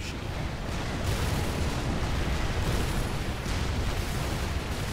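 Units fire weapons in the real-time strategy game Supreme Commander 2, a dense, continuous wash of rumbling explosions and gunfire, fairly faint and unbroken throughout.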